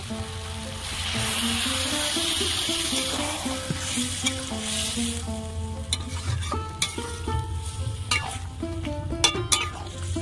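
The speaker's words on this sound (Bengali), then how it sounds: "এবার আমি জল দেব।" Cabbage and potato curry with fish head and dried fish sizzling steadily in a pan, with stirring and scraping and a few sharp clinks of a utensil against the pot, loud and close, with no talk.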